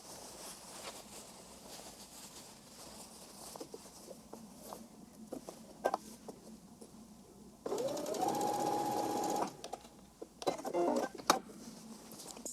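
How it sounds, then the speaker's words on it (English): A sewing machine stitches a skirt piece for the Aurelia dress, with scattered faint taps and handling sounds, then a few quick stitches and a steady loud run of continuous whirring before stopping, followed by another brief burst. "I do a few stitches in the beginning, go back, and then I sew all the way"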